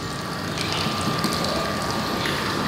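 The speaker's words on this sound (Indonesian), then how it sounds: "ini aeratornya kita kencangkan lagi" Plastic aquarium aerator being adjusted and tightened during cleanup of a tank that held sick fish, giving a continuous close clicking, ratcheting mechanical sound over a steady background hum, with no voices.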